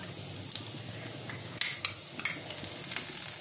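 Ginger and garlic paste frying for mutton kosha, a soft steady sizzle with a few sharp scrapes and clinks of a spoon stirring against the pan.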